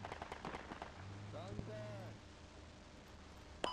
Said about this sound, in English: Mortars. Or something like that. Something heavy artillery is hitting us.